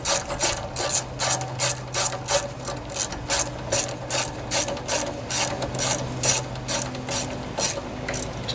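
Ratchet wrench clicking in quick rhythmic bursts while tightening bolts on a Kohler Courage engine, close and crisp, with no talk.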